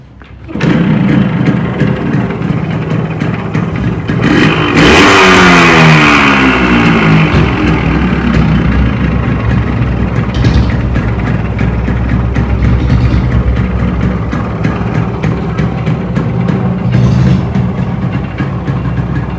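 A Yamaha RX100 motorcycle engine runs steadily and loud up close for the whole stretch, with a brief rev swell early on, and no talk over it.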